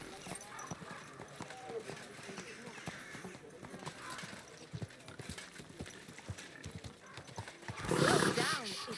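A horse in Kingdom Come Deliverance 2 clops along a road at a steady walk, hooves thudding rhythmically, then gives a loud, close neigh near the end; voices talk over it.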